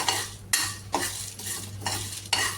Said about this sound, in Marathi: आता हे थोडं थोडं ड्राय रोस्ट व्हायला लागलं की मी यामध्ये ह्या सात ते आठ लाल मिरच्या घेतलेल्या आहेत